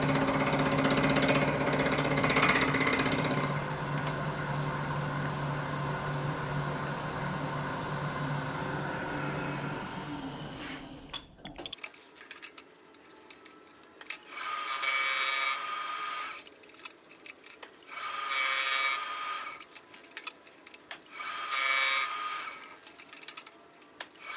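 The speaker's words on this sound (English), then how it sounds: "It's just a 2-flute 16 millimeter end mill." A 2-flute 16 mm end mill machines a part for fitting a Honda CB900F petcock to a cheap Chinese scooter. A steady whining machine drone gives way to several separate bursts of harsh cutting noise.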